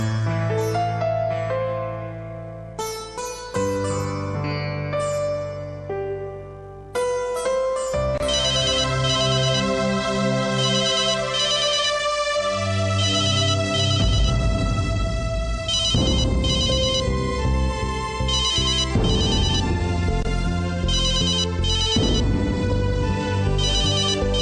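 A telephone ringtone rings on and on unanswered, a loud melodic electronic tune repeating steadily for a long stretch with no voices over it.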